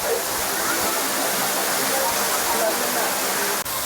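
Iruppu Falls pours with heavy force, a loud, steady broadband roar of rushing water that fills the whole clip without a break, up close.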